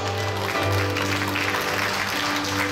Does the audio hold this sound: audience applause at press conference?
yes